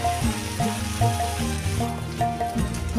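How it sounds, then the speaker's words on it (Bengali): Carrots, beans and chopped capsicum fry in a pan for a paneer dish, giving a steady close sizzle with repeated scraping and stirring knocks, no talking. "এবার সমস্ত কিছু ভালোভাবে ভাজা ভাজা করে নেব"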